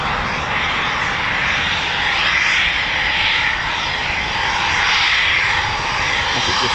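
A Eurofighter Typhoon FGR4 jet of 29 Squadron taxiing and turning around at an RAF station, a loud, continuous engine roar with a hissing whine that swells and eases gently as it swings round.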